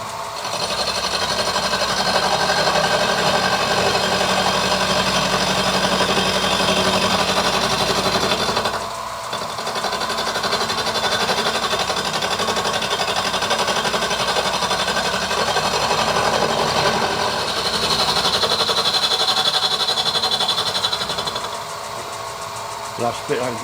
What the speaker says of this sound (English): I've got it mounted on 2 parallels, and that's the longest miller cutter I've got.